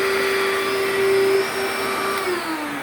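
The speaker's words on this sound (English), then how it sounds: "I'm not sure if you can hear me over the vacuum" A Eureka vacuum cleaner runs steadily, a loud constant whining hum with a droning motor tone that dips slightly in pitch near the end, close by with no talk.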